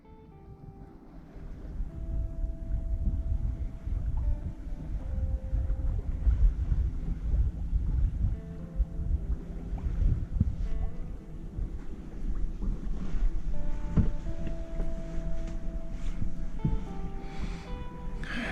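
Wind gusting across a microphone aboard a sailing boat at beam reach, a steady low rumble mixed with water and wave wash, fairly loud and continuous with no talking.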